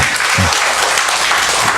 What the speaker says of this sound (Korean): 우리 한번 박수로 들어보겠습니다.